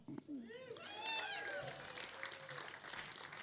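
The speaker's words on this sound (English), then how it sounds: "give him a big round of applause" An audience at a blues hall of fame ceremony in Victoria breaks into applause, a dense patter of clapping and cheers swelling after a brief vocal whoop near the start, loud and close, with a voice audible in the mix.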